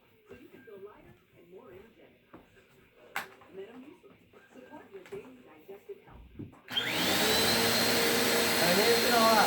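Bissell PowerForce Compact vacuum cleaner switches on partway through, a sudden loud, steady motor whine that runs to the end after a stretch of talking and indoor handling noises.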